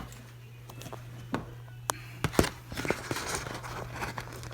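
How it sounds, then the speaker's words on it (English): Sanitized scissors snip the corner off a plastic yeast packet: a few faint crinkles and sharp clicks of the cutting, then rustling of the packet, under a steady low hum. "I'm going to cut the corner with sanitized scissors."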